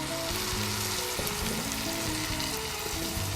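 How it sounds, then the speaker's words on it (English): Meat for a ragù sizzling in a pan with wine added, a close, steady crackling fry with soft bubbling and faint stirring underneath, no talk. "And here there is a nice sizzle going on."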